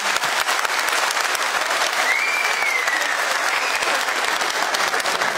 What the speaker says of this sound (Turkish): size de alkış istiyorum